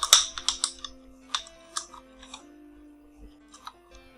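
Keys clatter on a computer keyboard as a line of code is typed, a quick burst of close, crisp clicks followed by a few scattered, softer taps.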